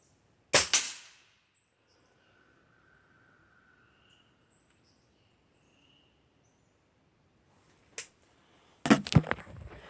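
Sharp, loud cracks from a .177 caliber break-barrel air rifle during a zeroing session, one shot near the start and a few more near the end, with near silence and faint insects between.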